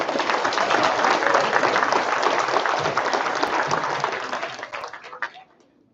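Audience applause at a PREP Center graduation ceremony, a steady wash of many hands clapping for about five seconds before thinning out and stopping.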